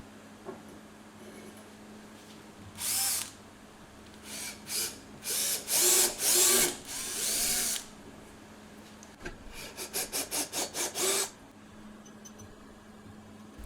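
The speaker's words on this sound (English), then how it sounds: "I printed them slightly undersized so I can ream them to final dimensions." Undersized 3D printed bushings pressed into sleeves are reamed to final size, heard as close scraping, whirring bursts that come in separate passes, first longer strokes and then a quick run of short rhythmic pulses.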